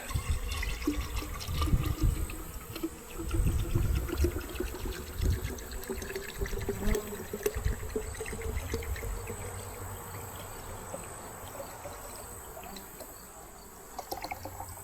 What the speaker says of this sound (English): Just going to fill it with syrup.